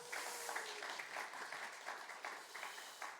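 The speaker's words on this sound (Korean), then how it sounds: "이지훈 목사님 먼저 박수 한번 하겠습니다" A university student faith retreat audience applauds to welcome a visiting pastor: steady, dense clapping from many hands fills the hall at full strength for the whole stretch, with no voices on top.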